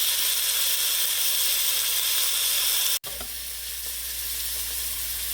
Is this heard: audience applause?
no